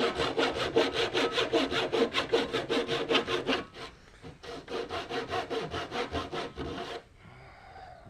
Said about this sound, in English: Making sure to stay down your scribe line and not cut any deeper than 1 inch.